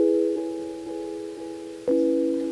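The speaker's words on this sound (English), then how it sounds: "the song starts with this keys part here, which is it's from like the Arturia DX7 VST" Soft synth keys from an Arturia DX7 VST on a Fluttering Celeste patch, with slight delay, play sustained bell-like chords, quiet new attacks landing about every half second before a brighter change of chord.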